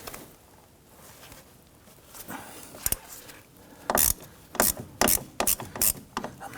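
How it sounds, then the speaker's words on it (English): A 1/4 inch ratchet with a 10mm deep socket works a rear brake bolt on a 2017-2020 Hyundai Elantra during a wheel cylinder replacement: close, loud bursts of rapid ratchet clicking with brief pauses, no talking. "We're going to use our 10mm deep socket with a 1/4 inch ratchet."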